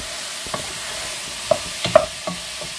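Onions frying in a pan with a steady soft sizzle, broken by a few sharp scraping clicks as a utensil stirs them, close and fairly quiet, no voices.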